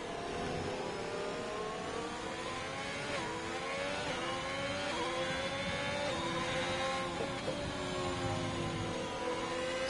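Race car engine in a racing video game at Bahrain, holding a continuous loud drone with shifting revs and gear changes throughout, no talk.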